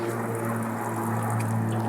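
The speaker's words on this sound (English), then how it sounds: "See the water coming out?" Steady rushing gush of water pouring out of a backyard pond, continuous and close, with a low steady hum beneath and no voices.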